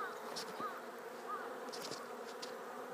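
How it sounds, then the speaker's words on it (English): A mass of honeybees buzzes steadily while being shaken from a cone into a hive, a dense close droning swarm hum with a few brief bumps and knocks. "I'm just going to shake these bees in here."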